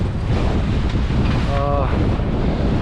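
Strong wind of about 20 knots gusting over a sailboat at sea near Vulcano, a steady loud roar with buffeting on the microphone and a brief tonal whistle midway.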